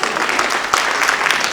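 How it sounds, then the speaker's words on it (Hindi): Audience at a mushaira poetry recital clapping to welcome a poet, a brief burst of loud close-packed applause. "बुलाइए इन्हें तालियों से"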